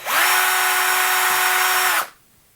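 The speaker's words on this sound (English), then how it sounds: "I'm going to drill this hole for an M4 threaded insert." A power drill whines steadily at high speed as it bores a hole for an M4 threaded insert into hardwood, then cuts off abruptly, leaving quiet room tone.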